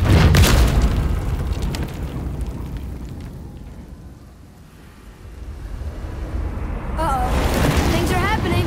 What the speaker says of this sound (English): We can flip the temple.